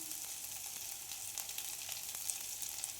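Curry leaves and tempering spices sizzle and splutter in hot oil in a pan for a masala dosa potato filling. It is a continuous, quiet, crackling fry with small pops scattered throughout, heard alone.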